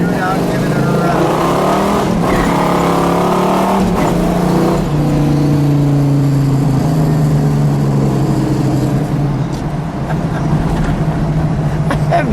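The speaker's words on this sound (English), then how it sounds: "Taking your Hemi Cuda out and giving it a run." A red 1970 Plymouth Cuda with a factory 426 Hemi and four-speed is out on a run, its engine loud and close as it revs up through gears and holds a steady cruising roar, with talk over the engine.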